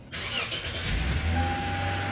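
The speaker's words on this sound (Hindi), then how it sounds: "अभी करते हैं गाड़ी स्टार्ट।" A Lexus GS300 with an engine immobilizer fault starts up: a brief cranking burst that catches into a steady, close idle, loud and alone.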